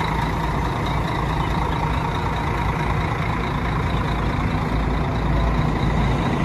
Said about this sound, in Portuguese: Motorzinho então, Mercedes-Benz do nosso Guanabara